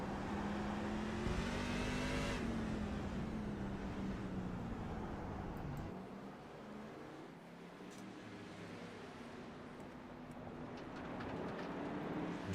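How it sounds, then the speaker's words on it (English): Race trucks in an Outcast Truck Series sim race at the Miami road course scream at high RPM into turn 2, a loud sustained engine whine with pitch sweeps as they brake and downshift, then build again. "And they pull high RPMs down into turn 2."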